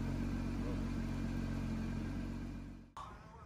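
A loud, steady Porsche engine rumble with a throaty exhaust valve drone up close, cutting off abruptly near the end before a brief quieter resumption.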